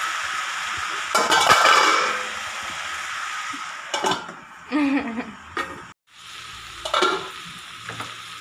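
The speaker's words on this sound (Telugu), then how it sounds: "చూడండి, ఇలా మధ్య మధ్యలో ఇలా కలుపుకుంటూ ఉండాలి కుక్ అయ్యే వరకు" Ivy gourd and onion curry sizzles steadily in a pan while a spoon stirs and scrapes through it in a few distinct strokes, close and fairly loud.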